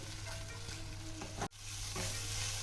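Cashew paste masala for doi katla, a Bengali rohu fish curry in yogurt, sizzles steadily in a pan while being sautéed, with a continuous frying hiss and a brief scraping stir midway.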